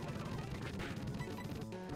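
A Rock Smash attack in the video game Pokemon Platinum lands as a dense, crunching crash and clatter of shattering impacts, loud and busy throughout, ending with a brief tonal game chime.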